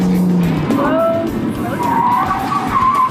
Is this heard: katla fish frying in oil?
no